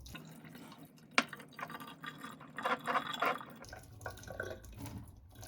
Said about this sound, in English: Take a hot water and pour it over the glass bottle.